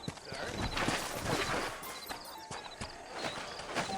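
Horse hooves clip-clop at a walking pace in the Red Dead Redemption video game, a steady rhythmic clatter over ambient outdoor game sound.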